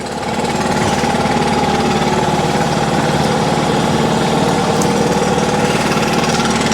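Backpack leaf blower engine running loud and close, a steady, buzzing two-stroke roar that holds at high revs without letting up.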